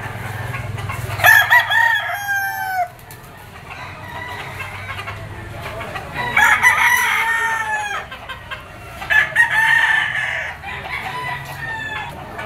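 Boston Roundhead Bullstag gamecocks at a Lipa auction market crow loudly and close, three long rising-and-falling crows spaced several seconds apart over low background noise.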